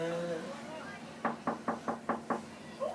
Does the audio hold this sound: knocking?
yes